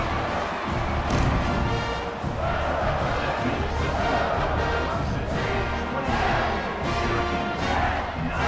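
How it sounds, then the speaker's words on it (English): A college football stadium crowd roars and cheers after a kick, loud and sustained, with swelling waves of voices and scattered shouts. "this crowd is feeling themselves after that last drive"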